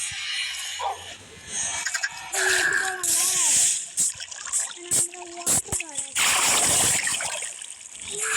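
Short bursts of splashing water in the video game Lokicraft mix with blippy effects and a voice talking over them.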